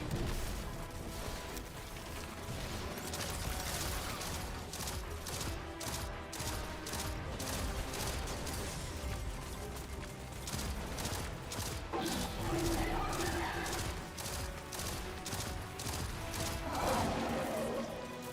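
Sniper gunfire from the video game Destiny 2: a dense, continuous stretch of sharp shots and crashing impacts, loud and busy throughout, layered over a steady game soundtrack.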